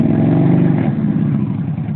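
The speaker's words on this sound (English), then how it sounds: "Just rev it up a little bit" Car engine fitted with Atom Bomb mufflers and a high-flow air filter revs lightly, a loud, close, throaty burbling exhaust rising and easing over two seconds.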